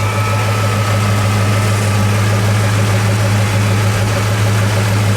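A 1968 Ford Torino GT with its 390 cubic inch V8 idles steadily up close, a deep, even rumble that holds constant with no talk over it.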